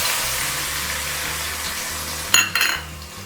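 Chopped onions hit hot butter and oil already seasoned with mustard seeds, cumin and asafoetida, giving a loud, steady sizzle, followed near the end by a couple of sharp utensil clatters against the pan.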